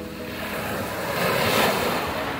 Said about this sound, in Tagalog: Pakinggan lang ang huni ng dagat.